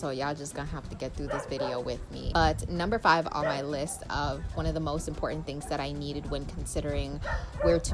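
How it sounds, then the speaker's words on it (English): Someone talks continuously while street dogs in Colombia bark and yip in the background, the barks scattered and repeated, partly buried under her voice. "I'm so sorry for the barking dogs,"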